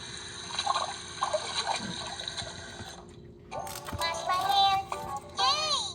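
Running water from a children's Baby Shark potty-training sound book for hand washing, a steady trickling rush over the first three seconds, followed by bright electronic chimes and chirpy tones.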